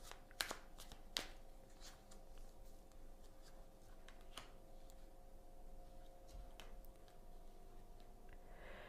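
Oracle cards being handled at close range: a couple of crisp snaps near the start, followed by quiet, continuous rustling and light ticking against a faint background hum.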